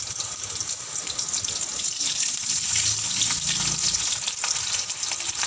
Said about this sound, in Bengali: তেজপাতা গরম হতে করে আমি ছোটো পেঁয়াজটাকে দিয়ে দেবো